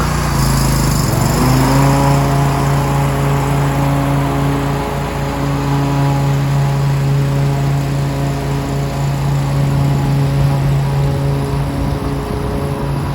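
A Kubota Z231KH zero-turn mower's engine rises from idle to a steady, loud, close drone that holds evenly throughout, with no other sounds.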